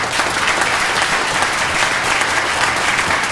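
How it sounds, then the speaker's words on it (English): Conference audience gives a quick round of applause at a long-term care insurance press event, a dense, even burst of many hands clapping, steady and fairly loud throughout. "If we could all just give them a quick round of applause."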